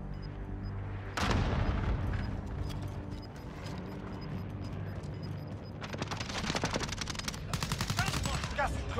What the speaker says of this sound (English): Incoming bombing run!